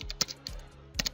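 A few quick keystrokes on a computer keyboard while typing into an MS Excel spreadsheet, with short clusters of clicks close by and quiet gaps between them, no voices.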